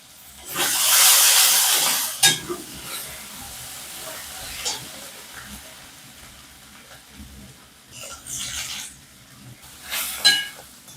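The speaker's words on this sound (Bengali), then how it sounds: "এবার আমি আদা আর রসুন ছোটো করে দিয়ে দিচ্ছি।" Chopped ginger and garlic hit hot oil with a loud hissing burst that settles into a quieter sizzle, broken by a few sharp stirring clicks and a second flare near the end.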